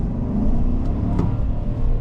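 A 2025 Chevy Silverado truck pulls away with a low, steady engine and exhaust rumble, close and fairly loud, with a brief whir rising near the middle.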